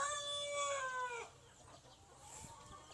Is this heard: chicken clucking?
yes